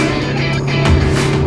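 A 2017 Alfa Romeo Giulietta Veloce with a dual-clutch transmission drives through the countryside, its engine giving a steady, close, loud hum with a slight rise in pitch.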